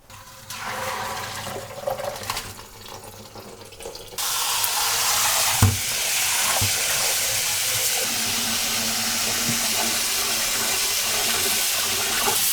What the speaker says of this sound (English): We're gonna bring this over to the sink and run it over cold